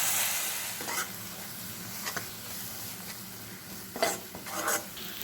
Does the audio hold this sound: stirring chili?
yes